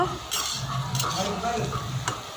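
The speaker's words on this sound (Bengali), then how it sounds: "আবার ভাজা হচ্ছে পকোড়া আমাদের সবার জন্য" Pakoras frying in a pan of hot oil while cooking for a Jamai Shashthi meal, a steady close crackling sizzle with a few louder bursts and light stirring sounds, no talking.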